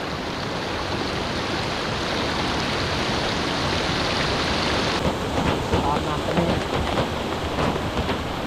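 Heavy rain pours down steadily during a storm with strong wind, a dense loud hiss filling the whole span, with low rumbling thunder underneath and no break in the downpour.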